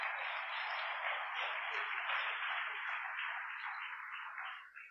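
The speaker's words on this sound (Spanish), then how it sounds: "Denle un aplauso fuerte al Señor Jesucristo" A church congregation applauds during a Spanish-language sermon, a broad, sustained clapping wash that holds steady and then fades out near the end, heard at some distance.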